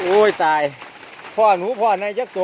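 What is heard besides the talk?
No distinct noise like a dog, phone or traffic.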